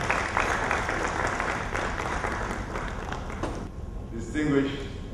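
Applause at the launch of a stock exchange securities market, a broad sustained wash of clapping that thins out near the end as the room settles, heard at moderate level with some voice mixed in.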